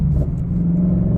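A deep, steady car exhaust rumble at a car show, loud and close, with a brief burbling burp in the engine note.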